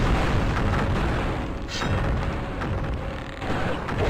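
Heavy booming blasts from the magic missile spell in the video game Hexen 2, a loud rumbling burst followed by a second impact near the end, low and explosive over a continuous game soundscape.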